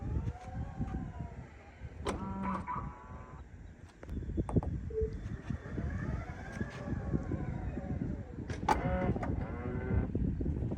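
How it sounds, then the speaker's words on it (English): Motorized soft-close liftgate on a 2026 Tesla Model Y, a loud whirring electric motor that rises and falls in pitch in several strained pulses, heard up close with faint background noise. "it's by far the loudest soft closing that I've heard in any car"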